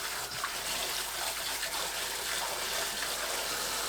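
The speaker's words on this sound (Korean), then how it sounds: "참나물을 씻어주세요." Chamnamul greens are rinsed under running water, giving a steady broadband splashing and trickling that stays fairly even throughout, close by, with no talking.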